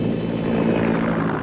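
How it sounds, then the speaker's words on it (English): A helicopter from a naval training station flies low overhead, its steady droning rotor and engine noise filling the air loudly and continuously, with no voices. "Oh, a helicopter from the Naval Training Station. It's not usual for them to fly so low."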